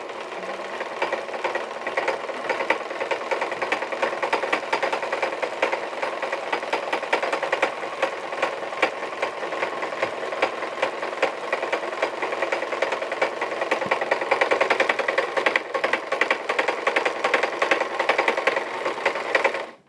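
A sewing machine runs steadily while stitching leather chaps, a continuous rapid mechanical whir and needle clatter that holds for about twenty seconds alone before stopping abruptly.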